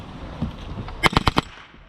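An RDX B.O.S.S unit blaster set to full auto fires a quick burst of about four sharp, evenly spaced shots, close and punchy, after a quiet lead-in.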